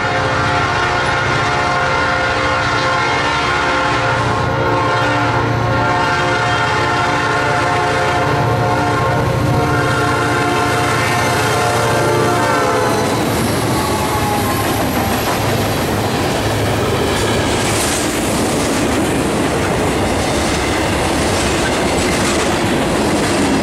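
A Norfolk Southern local freight train rolls northbound through Norcross, Georgia, with a loud, long horn blast up close, then rumbling wheels and clattering cars as it passes.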